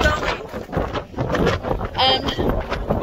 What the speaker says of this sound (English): There was such a huge windstorm last night and it's still going.